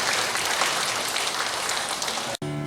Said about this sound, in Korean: 신앙들을 위해서 박수 한번 다시 합니다